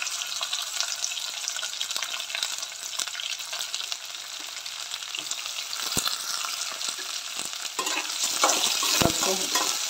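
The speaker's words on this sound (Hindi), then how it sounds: "हम हल्का फ्राई करेंगे, ज़्यादा फ्राई नहीं करना है इसमें।" Chopped onions sizzle steadily in a hot pan for poha, with scraping stir strokes throughout and a slight rise in intensity near the end; close and continuous, no talking.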